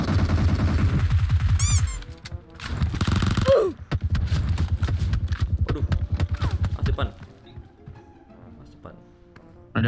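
Rapid bursts of gunfire in the mobile shooter PUBG Mobile rattle close by between quick footstep-like patter, while people talk excitedly over the action.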